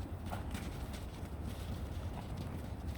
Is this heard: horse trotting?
yes